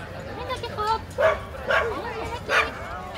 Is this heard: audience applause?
no